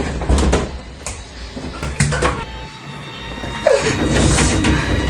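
A door gets banged and shoved hard again and again, loud thuds and rattling knocks close up in a tense indoor scene, with shouting in the background.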